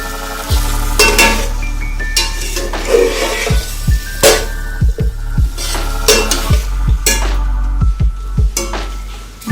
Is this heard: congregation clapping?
no